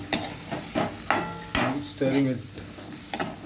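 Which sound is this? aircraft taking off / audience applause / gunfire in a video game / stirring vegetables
stirring vegetables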